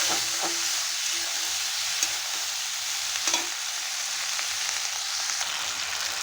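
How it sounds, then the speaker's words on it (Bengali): Chopped helencha greens stir-fried in oil for a tengra fish curry, a steady close sizzle with a few light spatula knocks against the pan, no voices. "হেলেঞ্চা দিয়ে ভালো করে নেড়ে নেব।"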